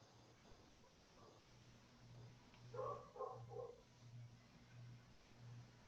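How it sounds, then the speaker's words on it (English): Faint dog barking from outside during an online planning meeting, a few short yips heard distantly over steady background hum. "Is that somebody's dog barking?"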